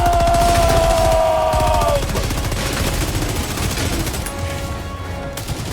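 Sustained automatic gunfire from the shooter video game Helldivers 2, loud and continuous with rapid rhythmic shots and a rising whine early on, running the whole time without pause.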